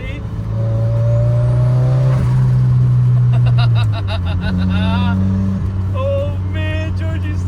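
A budget turbocharged Mazda Miata drives under a bridge, its engine droning loud and close with a steady low hum that shifts pitch partway through, while people talk excitedly over it.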